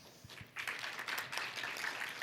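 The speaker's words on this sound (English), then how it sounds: "please join me in welcoming him with a big round of applause" Applause rises from a forum audience welcoming a speaker at an ASEAN Connectivity session, starting with a few scattered claps and swelling into a fuller, moderate round of clapping.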